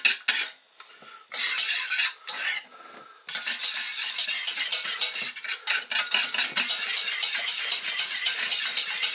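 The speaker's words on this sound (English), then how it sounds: "So into that goes your grated cheese, and you stir until all that turns into a delicious thick sauce." A utensil stirs and scrapes grated cheese into a thick mornay sauce in a pan, with steady, close scraping strokes that pause briefly near the start and then run on continuously with no speech.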